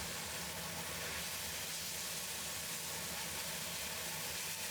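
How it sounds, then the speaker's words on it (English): Eggplant pieces stir-fry in a hot wok, giving a steady, even sizzling hiss that stays constant and fairly quiet with no talking. "Then add in eggplant pieces and keep stirring so the eggplant"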